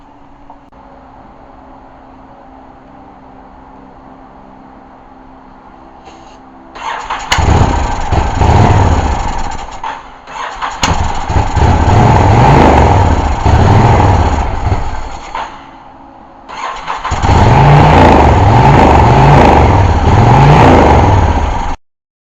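An old motorcycle engine with a carburetor that needs rebuilding cranks, then catches and revs loudly in three bursts with short pauses between, running rough and close after a quiet stretch of background noise.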